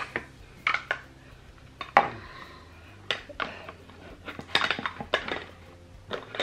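Lid being unscrewed from a jar of homemade raspberry-redcurrant yogurt: a series of sharp clinks and scraping twists at close range, several distinct bursts spread across the moment.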